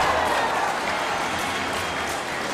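A big crowd of football fans at an Olympic qualifier between Nigeria and South Africa at Moshood Abiola Stadium in Abuja keeps up a steady, dense roar of cheering and clapping, loud and continuous throughout with no clear voice on top.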